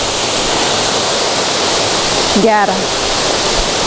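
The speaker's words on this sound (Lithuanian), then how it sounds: "Ir lietus, ir krioklio drėgmė." A steady, close roar of waterfall spray mixed with falling rain at a Georgian bathhouse, broad and unbroken throughout, with a single short spoken word briefly heard over it.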